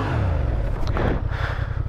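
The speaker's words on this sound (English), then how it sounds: "See, I just spun the bike around like that, almost like I would a dirt bike." A Honda Transalp 750 motorcycle is spun around on an off-road trail. Its engine revs loudly close by, first with a rising blip, then a rough, pulsing idle.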